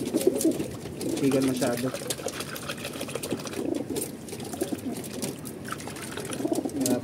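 Pigeons coo in low, repeated throaty phrases inside a training box, with a person speaking briefly and steady background noise throughout.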